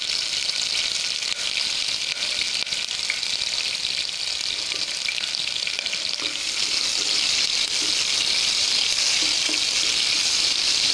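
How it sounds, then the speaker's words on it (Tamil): Fennel seeds, shallots and curry leaves fry in hot oil for a beef gravy, giving a steady, bright sizzle that carries on without a break and swells slightly louder toward the end, with no voices. "சோம்பெல்லாம் பொரிஞ்சு வரணும். பொரியவும் சின்ன வெங்காயம் ஆட் பண்ணிக்கலாம்."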